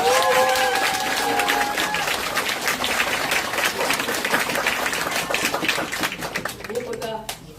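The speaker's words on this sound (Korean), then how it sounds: "여러분 박수 한번 보내주십시오." An audience at a political candidacy press conference claps steadily and loudly, a dense sustained applause with a voice briefly heard at the start and end.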